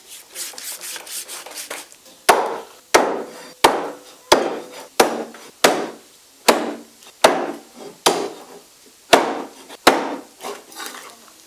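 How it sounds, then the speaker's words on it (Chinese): Washed pig trotters being chopped into pieces with heavy cleaver blows on a board, about fourteen sharp, fairly regular strikes after a stretch of softer scraping, loud and close with no talk. "洗净的猪蹄剁成块儿。"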